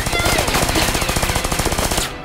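Rapid automatic gunfire in an anime action scene, a dense loud burst of evenly spaced shots rattling steadily for about two seconds before cutting off.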